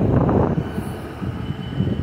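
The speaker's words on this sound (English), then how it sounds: "Oh, here's the train." A train passes close by at Starcross station, with heavy low clatter that eases slightly midway and then swells again.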